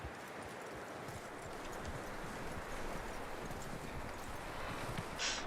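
A horse's hooves clip-clop steadily on the ground in Red Dead Redemption 2, a continuous, fairly soft trot at moderate distance with faint rustling around it.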